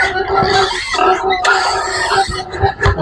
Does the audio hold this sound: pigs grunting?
yes